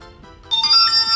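A tiny mini smartphone gives a short, bright electronic text message alert, a few quick high chiming notes sounding alone over faint background hum.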